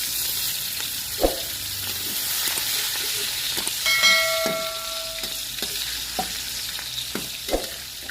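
Chili and garlic stir-fry in a pan for a Thai spicy fish stir-fry. A steady hiss of sizzling is punctuated by sharp knocks of the stirring utensil, and a brief high tone sounds midway.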